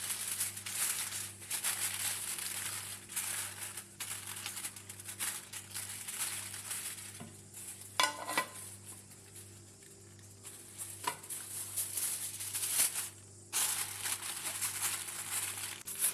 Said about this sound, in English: cover it with a foil paper.